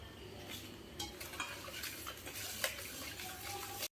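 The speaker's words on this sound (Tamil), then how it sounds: "இதை சேர்த்து மொத்தமாக பீட் பண்ணிக்கலாங்க." Butter and palm sugar being beaten together for a plum cake batter, a quiet scraping, stirring rhythm of a utensil against a bowl, with a few sharper clinks.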